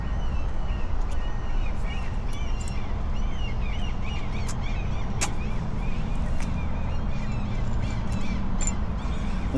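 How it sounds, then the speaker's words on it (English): Seagulls call repeatedly in a noisy outdoor parking lot in Anchorage, their sharp cries overlapping above a constant dense background roar. "The seagulls are noisy."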